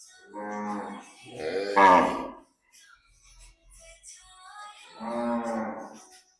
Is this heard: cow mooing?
yes